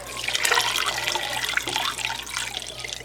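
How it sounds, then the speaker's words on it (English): Water poured into a hot canner full of jars for canning lemon/lime spread, a steady close rushing splash that runs continuously throughout with a low hum beneath, no talking. "we're going to add some water here"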